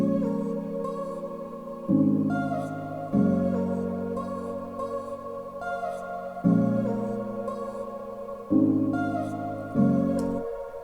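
Sustained piano chords change every couple of seconds, layered with a chopped vocal-sample melody and an atmospheric drone. The mix is moderately loud and steady, with no talking.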